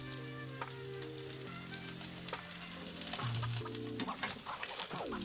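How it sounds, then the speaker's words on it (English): An okonomiyaki with pork, shrimp and squid fries on a hot griddle with a steady crackling sizzle, broken by scraping and tapping from a spatula, while a rooster-like cluck and other steady tones sound in the background. "Fry for a further couple of minutes until it's cooked through."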